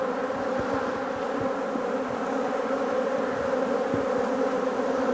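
Honey bees hum steadily during a hive inspection, a dense continuous buzz close by with small rises in pitch, alone without talk.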